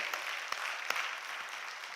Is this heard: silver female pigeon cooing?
no